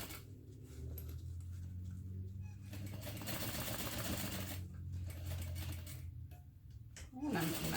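An industrial sewing machine runs in steady bursts of rapid mechanical stitching, with brief pauses between runs and a low motor hum underneath.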